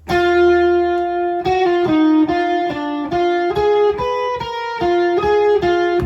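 A sustained, distorted electric guitar line plays a run of single notes in a steady rhythm, each one ringing with rich overtones and effects.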